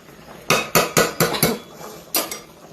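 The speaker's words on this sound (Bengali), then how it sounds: "রান্না করছি আমি খিচুড়ি" A utensil strikes a cooking pot of khichuri with potatoes and broccoli: five quick sharp metallic clanks in a row, a pause, then one more, close and fairly loud.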